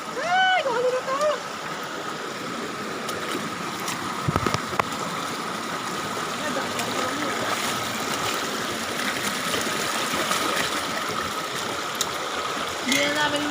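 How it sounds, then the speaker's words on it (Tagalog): Small mountain stream on the way to Awitan Falls in Pantabangan, Nueva Ecija, flowing with a steady broadband rush and trickle, heard close and continuous, with a brief voice near the start and end. "Hindi na po namin nakita ang falls. Sapa lang."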